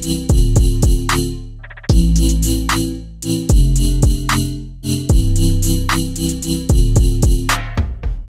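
Future bass drop chords from a Serum synth with sidechain compression: bright, full chords swell and duck in a steady pumping rhythm around a punchy kick, loud and alone with no voice.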